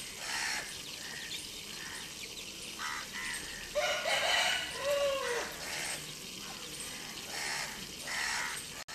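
Young chicks playing near a tree call out in repeated short chirps and squawks over a faint outdoor hum, with a louder cluster of calls midway.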